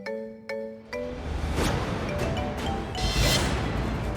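A phone rings with a melodic electronic ringtone, a few bright tonal notes, then gives way to a louder whooshing, crashing burst of noise; no voices.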